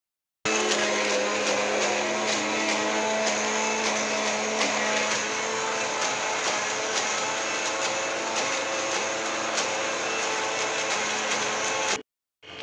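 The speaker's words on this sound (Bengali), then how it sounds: "তো এই যে আদা বাটতে চলে এসেছি" Ginger ground into paste by an electric grinder, a loud, steady, high-pitched whirring motor running continuously for about twelve seconds before cutting off abruptly.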